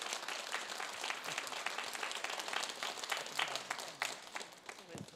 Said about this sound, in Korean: 자, 박수로 맞아주실까요?